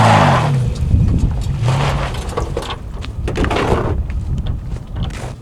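Toyota Tacoma TRD with an aftermarket exhaust, in two-wheel drive, labouring up a steep off-road trail: a steady, loud low engine drone with surging revs, tire and chassis knocks, and wind rumble throughout.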